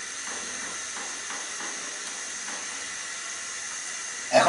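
A steady, even hiss of masala frying in coconut milk for a steamed egg korma, sizzling continuously close by with no talk.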